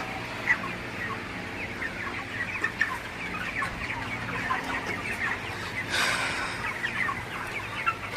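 Broiler chickens on a poultry farm, 31 days old, clucking steadily in a flock while drinking water on a hot morning, with a continuous mix of soft overlapping calls and occasional sharper clucks nearby.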